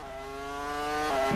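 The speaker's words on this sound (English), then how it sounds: "The stop in the box, and then just burn the rear tyres" A Williams Formula 1 car at the 2002 Malaysian Grand Prix practice, its engine holding a steady high-pitched harmonic whine that climbs slightly as the rear tyres are burned, loud and close, ending with a brief rougher burst.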